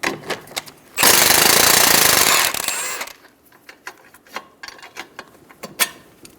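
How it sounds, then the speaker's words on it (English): An impact wrench on a 14mm socket spins off the sway bar link nut on a 2010-2014 Subaru Outback, a loud rattling burst of about a second and a half, then scattered clicks and clanks of tool handling. "Remove the sway bar link nut using a 14mm wrench on the head of the bolt and a"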